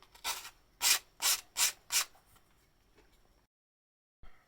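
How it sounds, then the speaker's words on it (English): Light sanding on the painted wooden hull of a 1/200 scale HMS Victory model: four brisk, close rasping strokes in steady rhythm, then a quieter scrape that fades, brief silence, and one more short rub. "just a tiny bit of sanding"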